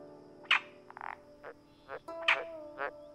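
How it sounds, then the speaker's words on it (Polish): Frogs croak in a nearby swamp, giving about six short separate calls at irregular intervals against a quiet background with a faint steady tone. "Wkrótce w pobliskim błocie zarechotały żaby."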